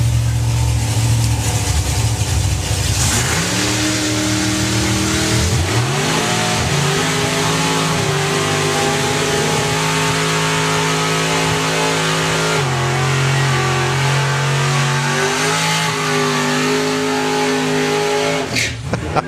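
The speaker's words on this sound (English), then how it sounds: "That was an enormous burnout for him." A Supercharged Outlaws drag racing car at Bug Jam does a long burnout, its engine roaring loud and sustained with rising and falling revs.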